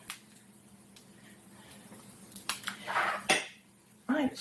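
A knife works through a tomato on a board for an egg sandwich, with soft close taps and squishy slicing strokes amid light dish and cutlery clinks, a few louder cuts near the end.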